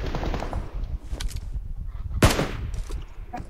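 Gunfire in the BGMI battle royale mobile game on the Livik map: a short rattle of shots early on, then one loud sharp report mid-clip, over a steady background rumble.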